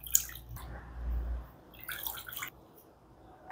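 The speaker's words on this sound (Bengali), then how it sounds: "এখন আমি আমগুলো সুন্দরভাবে 5-6 বার ধুয়ে নেব চেপে চেপে" Raw mangoes being washed and squeezed by hand in a basin of water, a few close sloshing swirls and splashes followed by quieter dripping.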